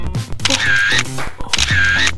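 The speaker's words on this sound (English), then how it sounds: "I'll take a photo with my phone and finish writing after class." A phone camera fires its shutter twice in a college classroom, each capture a loud, bright electronic click-and-whir sound effect separated by a short pause.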